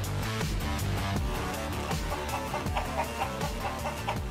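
Clucking chickens in the World of Warcraft Classic game, heard amid busy layered game music and effects, with repeated short clucks running throughout the scene.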